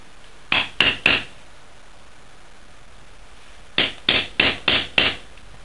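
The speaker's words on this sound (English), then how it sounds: "So keep hammering that down until it's about almost level." A hammer pounds a potassium nitrate and sugar rocket fuel mix down into a tube with crisp close taps, a quick run of three strikes, a pause, then five more evenly spaced blows.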